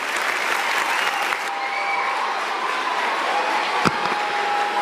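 Steady applause from an audience at a Nigerian gathering, dense and sustained clapping throughout with a brief louder clap near the end.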